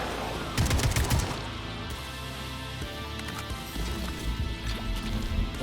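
Rapid gunfire from shooting enemies in the video game Atomic Heart, dense bursts of close, loud shots with clattering mechanical noise running nearly continuously.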